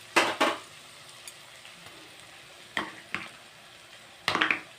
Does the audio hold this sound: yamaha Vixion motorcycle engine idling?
no